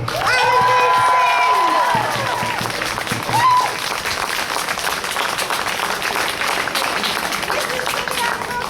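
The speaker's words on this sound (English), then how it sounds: "Can we have a big round of applause for West Midlands Animal Save?" A crowd applauds and cheers at a speech during an animal rights march to close slaughterhouses in Birmingham, UK, with sustained clapping under a voice on a loudspeaker at the start.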